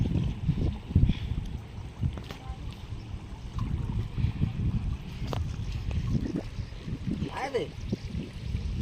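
Water pours from an opened gate of Dantiwada dam into the river, a broad, continuous rushing roar heard from a distance, with wind buffeting throughout.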